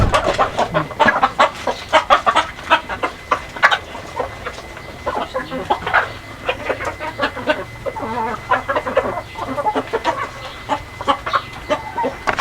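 Brahma chickens cluck continuously in short, choppy bursts nearby, a busy flock chattering while a voice occasionally speaks underneath.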